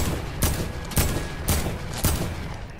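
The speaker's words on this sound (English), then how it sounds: "now they're trying to shoot me down" Gunfire in Fortnite: four loud, evenly spaced broadband shots roughly half a second apart, each with a sharp attack and a short ringing tail, and no talking over them.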